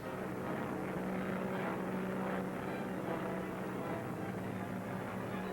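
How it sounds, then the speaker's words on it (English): A propeller-driven bomber drones steadily overhead, a loud continuous engine hum with a low throbbing tone and no voices. "Look! That plane up there!"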